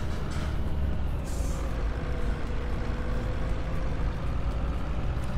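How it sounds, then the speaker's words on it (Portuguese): A loud truck passes on a road, a dense, steady low engine roar that fills the whole stretch, with a brief hiss of air near the start and no talk. "O caminhão que tá alto?"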